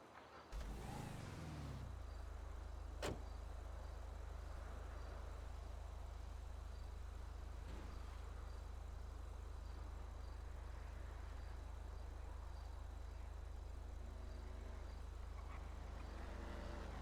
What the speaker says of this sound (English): I can definitely hear cars just going bucked off around us.